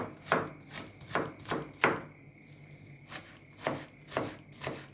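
A second onion being chopped on a board, with about nine crisp knife strikes in an uneven rhythm, close and clear with no talking.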